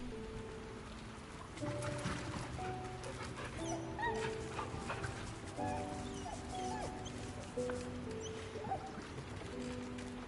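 A dog in Baldur's Gate 3 whimpers and yips repeatedly in short, high whines and soft barks, close and moderately loud, with faint game background noise beneath.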